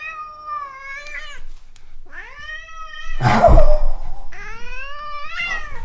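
A pet cat meows three times, long drawn-out and loud at close range, with a rustling, handling noise between the second and third cries.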